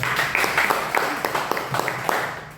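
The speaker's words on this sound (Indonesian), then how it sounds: "Tepuk tangan untuk Temen Godline Indonesia, yaitu Pak Tri Setiawan." Audience applause for Pak Tri Setiawan at a business opportunity presentation in Pekanbaru: a crowd claps with distinct individual claps audible over a steady patter, moderately loud, with some voices in the background.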